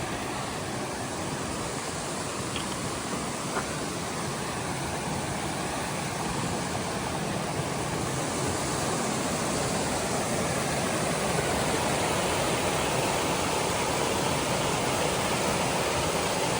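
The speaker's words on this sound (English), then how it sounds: "This is Comer Creek Falls." Comer Creek Falls, a waterfall along the Appalachian Trail, pours out a constant, dense rushing hiss that stays loud and even throughout, with no voices.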